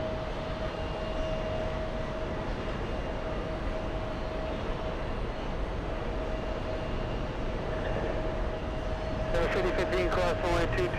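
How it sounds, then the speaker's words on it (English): A Boeing 767-400 airliner landing at JFK airport, a broad, steady, distant jet rumble holding evenly with a faint tone through it, and a brief burst of clattering noise near the end. "Landing right now, we have another LA flight. This one bound for JFK."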